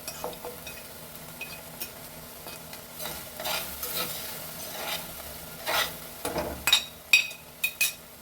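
Grated coconut being stirred into cooked cowpeas in a pan, heard as soft scraping and rasping strokes with light sizzling, growing louder and more clattery toward the end, with no talking.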